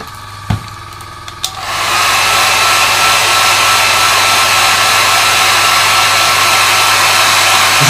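A hair dryer blowing on paint on a Bandai Y-Wing palm-size model kit switches on after a couple of clicks and then runs as a loud, steady, close whoosh.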